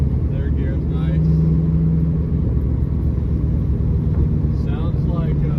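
Nissan 240SX engine driving steadily in third gear, a loud continuous low drone heard from inside the car, with someone talking over it at times.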